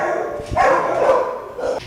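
Dogs awaiting adoption bark in humane society shelter kennels, with a loud close bark followed by echoing yelps from other dogs in the hard-walled kennel room.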